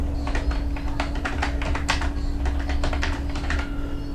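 Keys clatter in quick, uneven bursts as someone types a short search query on a computer keyboard. The typing is close and clear over a steady low electrical hum.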